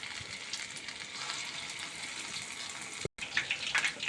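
Fritters of ground lentil batter bubble and crackle in hot oil, a dense continuous frying hiss with a brief dropout near the end before the sizzle resumes, no voices.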